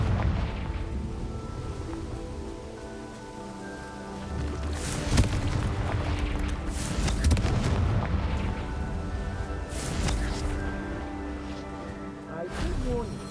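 Confringo spell blasts in Hogwarts Legacy, a string of booming explosive bursts amid ongoing combat sounds, with spoken dialogue in the mix.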